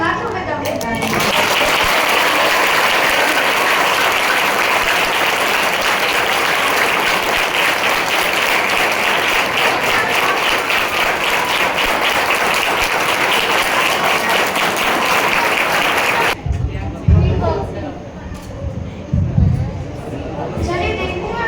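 A school assembly audience claps loudly and continuously for about fifteen seconds, a dense wash of applause that ends abruptly, followed by a voice and some chatter.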